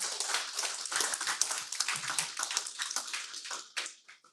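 Audience applause closing a panel discussion on economic fragmentation and tech competition in Geneva, a dense crackle of many hands clapping together that thins out and fades over the last second.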